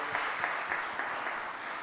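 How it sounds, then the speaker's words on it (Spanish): Steady applause from a congregation at a church service, a continuous wash of clapping that holds at an even level throughout. "Dele un fuerte aplauso al Señor Jesús."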